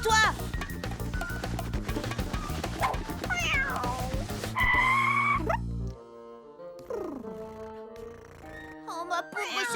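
A cartoon cat meows loudly in a French children's animated comedy, with several rising and falling cries over busy music and voices.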